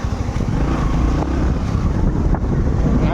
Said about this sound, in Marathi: वार मस्त गार वारा सुटलेला आहे